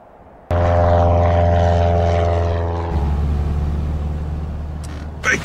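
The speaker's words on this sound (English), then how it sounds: "Unidentified aircraft approaching Isla Sorna." An animated Lego Jurassic World airplane flies in with a sudden loud propeller engine drone, steady and close, shifting lower in pitch partway through as it passes.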